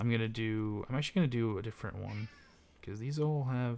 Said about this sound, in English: If you hear the cat in the background